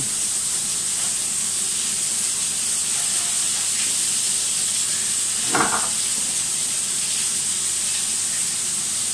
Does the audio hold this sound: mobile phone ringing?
no